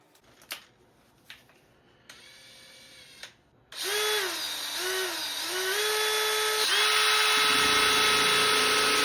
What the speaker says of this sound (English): drill a hole for it to go through